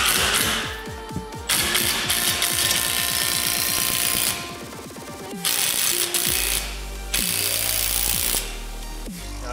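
An impact wrench with a socket drives a bolt clamping two metal plates together, making loud, rapid hammering bursts that rise in pitch as the bolt tightens, broken by short pauses, with no talk.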